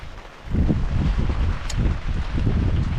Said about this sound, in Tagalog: Medyo mahangin at kamalon konti.